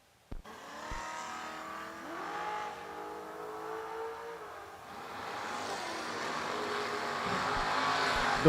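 A 1988 Mustang drag racing at World Wide Technology Raceway. A sharp thump at launch gives way to a loud engine roar that climbs and surges through the gears, swelling toward the end as the car runs close by.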